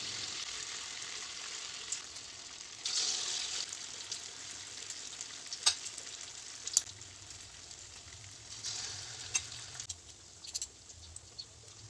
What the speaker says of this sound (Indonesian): Cetak adonan tahu dengan menggunakan 2 buah sendok, kemudian goreng dengan minyak yang sama.